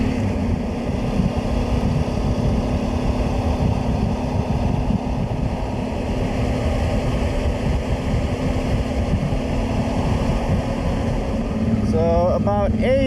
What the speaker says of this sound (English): Motorcycles are the best.